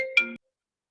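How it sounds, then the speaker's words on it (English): A phone rings during an online evening talk event, a short electronic tone sounding briefly and fairly close before cutting off into silence. "Somebody's something is ringing."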